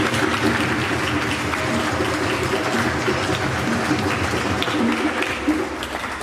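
Applause from a church audience for young people just baptized at a baptism service in Massy, with dense, sustained clapping throughout that eases slightly near the end.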